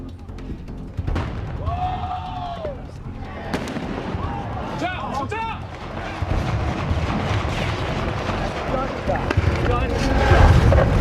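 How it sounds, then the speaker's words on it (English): Gunfire during a night of unrest in Ferguson with National Guard present, sharp cracks and bangs in a noisy street scene, with a siren-like wail and people talking in the background. "Gunshot."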